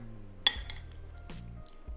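Salmon chunks being stirred with teriyaki sauce in a bowl: a few faint clinks of a utensil against the dish with soft wet squishing between them, quiet and close.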